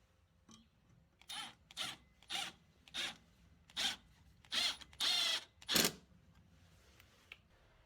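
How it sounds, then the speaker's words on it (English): A driver turns a screw into a shelf bracket for a garage floating shelf in a series of about eight short, close, rasping bursts separated by quiet pauses. "take this bracket, this driver and a screw, and start screwing it in."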